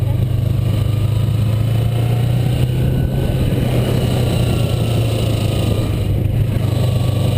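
A Kawasaki Ninja motorcycle engine drones steadily and loudly close by as the throttle is opened, a sustained low-pitched roar with slight clatter and no voices.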